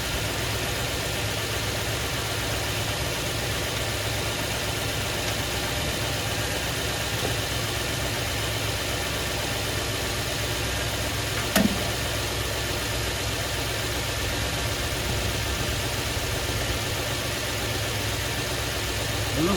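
A Toyota Tundra pickup sits idling on a chilly day to warm up, its engine a steady, even rumble held close and unbroken, with one brief click near the middle and no talk.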